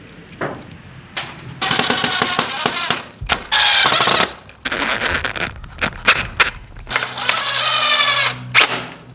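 A power drill drives screws through scrap roofing material on a small portable chicken coop, giving loud bursts of whirring and rattling separated by short pauses, with some clanking of metal sheeting between runs.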